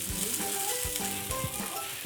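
Cut potatoes sizzle steadily in a frying pan over medium heat, a dense, even crackle of hot fat with a few soft thumps and stirring knocks, close up and with no talking.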